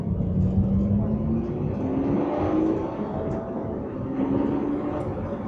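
A sports car engine hums and whines steadily while driving, its pitch sweeping up and down with gear changes, heard from inside the vehicle.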